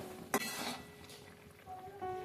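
Quiet clinks and a sharp scrape of a utensil against a pot while stirring lentil dal with chopped coriander and a little raw oil, a few brief strokes close by.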